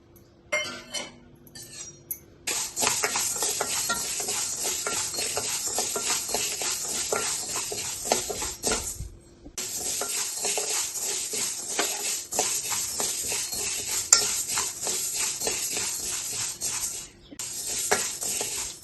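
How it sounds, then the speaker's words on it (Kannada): Fenugreek seeds roasting over a low flame in a pan while making sambar powder, giving a steady dense crackle and clink of seeds against metal, close and continuous with brief pauses as the pan is stirred. "ನೋಡಿ, ಈ ಥರ ಹುರ್ಕೋಬೇಕು. ಚಟಪಟ ಅಂತ ಸೌಂಡ್ ಬರಬೇಕು."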